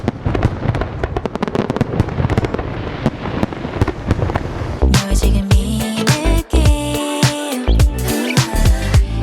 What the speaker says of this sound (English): Can I get some fireworks, please?